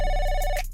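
A telephone ringing with a steady electronic bell tone, loud and close, sustained through most of the moment before cutting off near the end.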